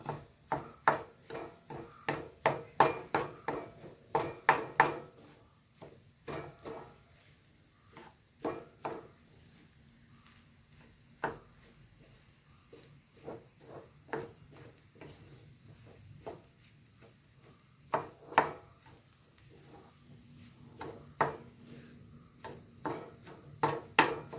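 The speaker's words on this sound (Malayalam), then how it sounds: "നമുക്കൊന്ന് ഇളക്കി കൊടുക്കാം" Chicken cutlet mixture being stirred in a pot or pan, giving soft scraping and knocking strokes in irregular bursts, fairly close and moderate in level, with quieter gaps between stirs.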